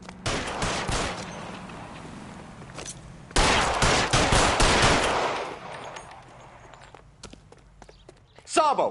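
Gunfire from the video game LA Noire, a loud burst of shots and rapid fire mixed with footsteps, with a second louder volley in the middle and a sharp crack near the end, while voices talk over it.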